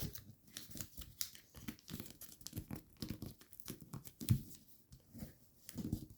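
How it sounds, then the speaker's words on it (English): Paper being folded and creased for a thick-layered origami helicopter, giving soft, close crinkles and rustles in scattered short bursts, with one sharper crease near the end. "And fold the flap over."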